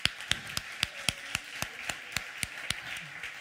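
Steady, evenly spaced claps ring out at a conference stage event, forming a sparse, rhythmic applause of about a dozen beats rather than a full crowd roar.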